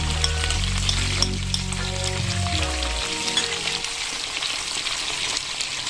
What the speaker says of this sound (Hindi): ये ब्राउन हो गया, अब एक साइड से ब्राउन हो जाएगा, फ्राई होने लगा।